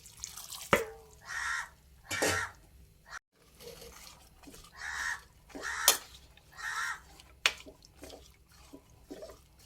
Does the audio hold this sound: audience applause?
no